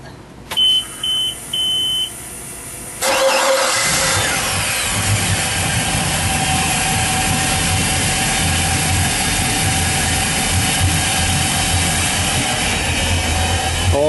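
A 2007 Four Winns 256 Vista boat engine cranks briefly and fires up, settling into a loud, steady idle with a constant low rumble and mechanical clatter, heard up close with no talking.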